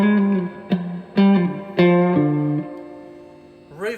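Electric guitar notes plucked through a Marshall JCM900 tube amplifier with reverb, each ringing out with a lingering reverberant tail that fades slowly after the last note.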